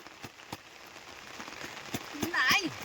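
Rain patters steadily on a farm in a rural setting, a soft, even hiss with scattered drips and a few sharp taps, while a voice calls briefly near the end.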